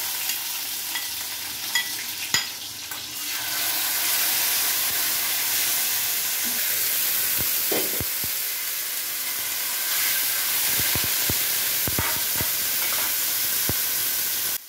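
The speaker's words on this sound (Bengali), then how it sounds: "লঙ্কা, এলাচ, দারচিনি আর জিরা ফোড়ন দিয়ে নিতে হবে।" Whole chili, cardamom, cinnamon and cumin crackle in hot oil for a home-style fish curry, giving a steady close sizzle broken by sharp clicks of a stirring spoon.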